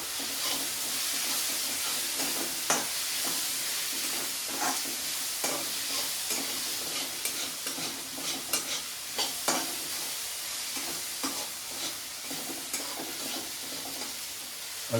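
Onions with ginger garlic paste fry in a pan for kurma, giving a steady sizzle broken by repeated scraping and stirring clicks from a spoon, close and alone.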